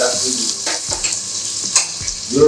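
Onion sizzling in a pan for Kashmiri mutton sambar, a loud close hiss with a few spatula scrapes and pops over about two seconds, no talking.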